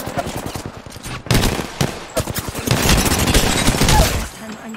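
Sustained automatic gunfire in the battle-royale shooter Apex Legends, rapid loud bursts and volleys crowding together over several seconds, close and dense.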